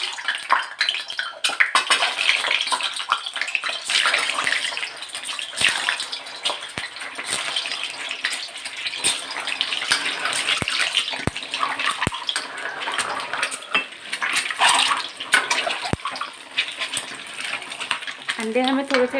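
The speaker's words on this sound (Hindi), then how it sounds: "अंडे हमें थोड़े से डार्क कलर के जब तक डार्क ना हो जाए हमें तब तक फ्राई करने हैं" Eggs frying in hot mustard oil, a loud continuous crackle and spatter with scattered sharp pops, while someone speaks over it now and then.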